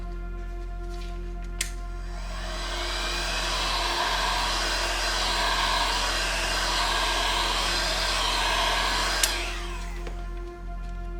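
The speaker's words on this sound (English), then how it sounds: "as a last step, just use heat over the entire skin" A hair dryer or heat gun blows steadily over a vinyl skin on an ASUS ROG Ally handheld, a constant loud whirring drone lasting several seconds, with brief clicks as it switches on and off.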